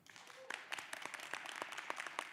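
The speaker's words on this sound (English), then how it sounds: "applause for The Haunting of Hill House" A Comic-Con panel crowd applauds The Haunting of Hill House with a faint, steady patter of many hands, distant and soft throughout.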